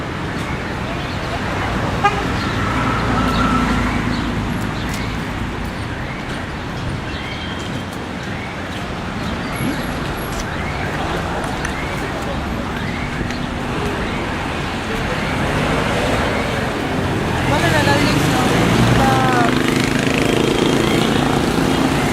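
Town traffic rolls through an uncontrolled intersection served by frequent buses, a continuous wash of engines with scattered horn toots near and far, and a voice talking over parts of it.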